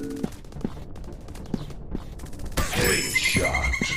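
Gunshots sound in a 3D counter-terrorist first-person shooter game as scattered sharp shots and mechanical clicks, then a denser, louder burst of firing near the end.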